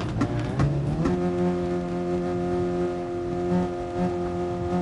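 A Ferrari race car engine, heard in a racing game, holds a steady droning pitch that rises slightly at the start, then runs on alone for a few seconds at a constant, loud level.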